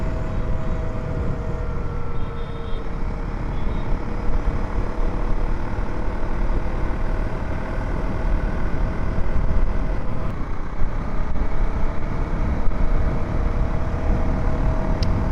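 A Husqvarna Svartpilen 401 motorcycle cruises at high speed on a highway, a loud continuous engine drone blended with heavy wind rush, steady throughout.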